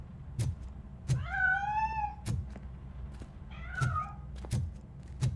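A cat meows twice in the video game Robocop Rogue City, two drawn-out, wavering cries separated by sharp thumps and clunks from the game, with no one talking.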